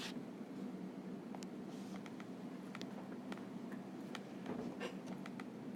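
A pen sketching on paper, faint steady scratching strokes and light ticks at close range over a quiet background hiss.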